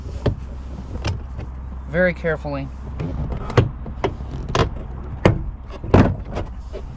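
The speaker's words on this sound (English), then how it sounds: "Now I'm simply going to pull on the door panel" Interior door panel being pulled off a Honda Accord door: a string of sharp plastic pops and clicks as clips release, irregularly spaced and close, with someone talking briefly in the middle.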